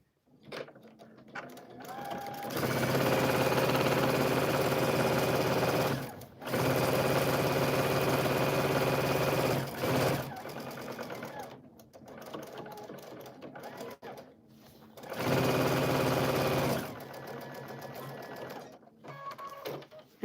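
Sewing machine stitching a girl's dress, running in three long steady bursts of close, loud motor hum and needle chatter separated by brief pauses.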